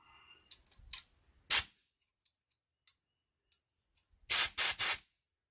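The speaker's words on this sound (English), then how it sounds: "And then I want to take that cutoff tool." A cutoff tool cuts a part off a Subaru during tie rod and strut replacement, giving a short loud burst and then three longer, very loud screaming bursts close up, with scattered faint clicks between them.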